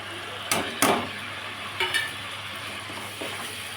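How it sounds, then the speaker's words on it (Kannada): A spoon scrapes and stirs chilli powder, turmeric and salt in a pan over a low flame for temple-style puliyogare, with a few distinct scraping strokes over a faint sizzle. "1 ಸ್ಪೂನ್ ಅಚ್ಚ ಖಾರದ ಪುಡಿ, ಅರ್ಧ ಸ್ಪೂನು ಅರಿಶಿನ ಪುಡಿ, ರುಚಿಗೆ ತಕ್ಕಷ್ಟು ಉಪ್ಪು ಹಾಕೋತಾ ಇದ್ದೀನಿ"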